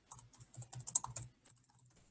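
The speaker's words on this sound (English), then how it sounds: "if I was to type in a place name like Ancram Cottage" A computer keyboard is typed on in a quick burst of crisp, close key clicks, then a brief pause and a few lighter taps, with no voices.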